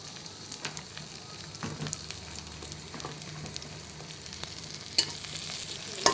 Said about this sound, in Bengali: দেড় চা চামচ বাটার নিয়ে আমি তিনটা ভাজতে দিয়ে দিলাম